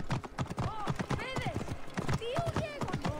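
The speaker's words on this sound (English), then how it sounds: "Is there any way to make the horse run faster?" A horse gallops in Assassin's Creed Origins, its hooves beating a rapid, steady clip-clop close up, with a voice speaking over the hoofbeats.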